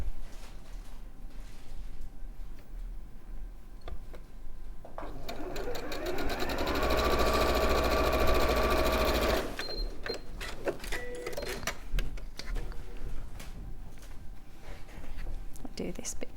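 A sewing machine stitching quilt sashing fabric in a fast close whirring run lasting several seconds, with quieter start-stop stitching and handling noises before and after.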